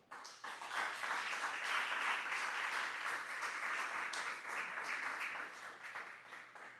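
Audience at a 2026 press conference applauding warmly, a steady dense wash of many hands clapping that holds for several seconds at moderate distance, easing slightly toward the end with no talk over it.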